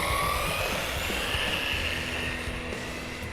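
An RC car racing at full throttle in a speed run, its motor a loud, continuous high-pitched whine with a rising tone, close and sustained through the whole stretch.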